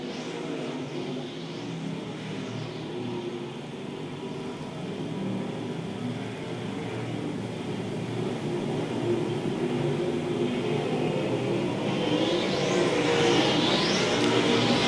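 USRA modified stock cars race around Lakeside Speedway, a steady roar of engines with revving swells and a pack passing louder near the end, heard at a distance.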